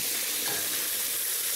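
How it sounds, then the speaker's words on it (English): Catfish frying in a pan of hot oil in a Cajun home kitchen, giving a steady, even sizzle with fine crackle that runs without a break at close range, with no voices over it. "Yes, this is frying real pretty too."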